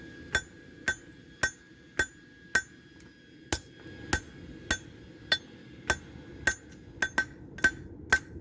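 Steady, ringing hammer blows strike hot 52100 steel while a camp knife is forged, about fourteen evenly spaced metallic clangs landing roughly once every half second, loud and close with no talking.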